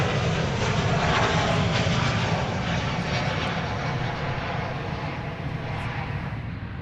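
An American Airlines Boeing 737-800 arriving from Mexico City at Dallas Fort Worth roars loudly and steadily nearby, its broad engine rumble slowly easing over several seconds.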